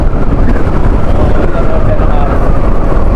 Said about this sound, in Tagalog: Lakas ng hangin, nadadala yung helmet ko eh.